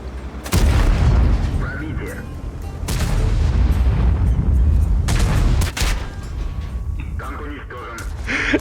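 Artillery shells landing in World of Tanks, heavy booming impacts with rumbling aftermath, several strong hits close by, while a player talks throughout.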